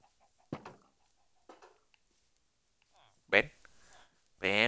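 Minecraft chickens cluck in short, soft bursts with a louder squawk near the end, while a player talks over them in the game.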